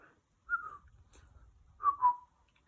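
A person whistles near a newly arrived cockatiel: two short bright whistled phrases, the first around half a second in, the second longer and rising then falling near the end, clear and close over a quiet room.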